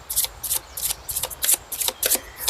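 Tarot cards are riffled and shuffled in quick repeated bursts, about ten crisp flutters at a steady rhythm, close and fairly loud, with no voices.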